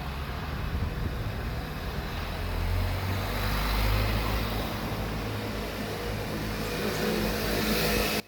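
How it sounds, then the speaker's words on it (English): Cars rolling past on a narrow local street without a sidewalk in a Sicilian town, a continuous close engine and tyre rumble that swells slightly in the middle and holds steady throughout. "so I literally have to wait for the cars to move"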